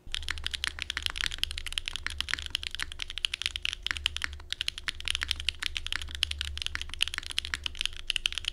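Someone types on a Mode Sonnet keyboard with Ghost Dragons switches, a lattice mount, no foam, a copper bottom and a copper weight. The keystrokes are fast and continuous, with crisp clacks at an even pace under a faint low hum.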